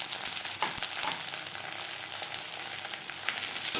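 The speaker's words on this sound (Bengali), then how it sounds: "এক দু মিনিট পেঁয়াজের সাথে রসুন ভেজে নেওয়ার পর" Garlic fries with browned onions in a pan for a fish roe dish, a steady, close sizzle with a few faint crackles and stirring sounds, no voices.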